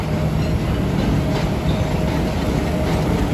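Karachi Express passenger train in Pakistan running steadily on rails, heard from inside a business class compartment as a continuous loud rumble with faint rhythmic clatter throughout.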